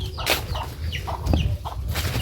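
Chickens on a small Philippine cattle farm cluck in short, close bursts, several separate calls spaced over a couple of seconds, with faint rustling between them.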